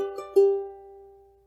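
Ukulele fingerstyle phrase from the bluegrass tune "Shady Grove": a couple of quick picked notes followed by one ringing plucked note that sustains and slowly decays, close and alone.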